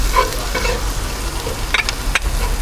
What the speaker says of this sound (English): Now it's time to add in our chili flakes. And our seasoning mix. And we're just going to cook this for about a minute.